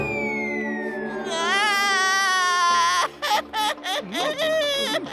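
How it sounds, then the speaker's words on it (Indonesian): A child cries loudly in an animated cartoon, a long wavering wail that breaks into choppy, sobbing bursts toward the end. "itu suara tangisan anak yang sama"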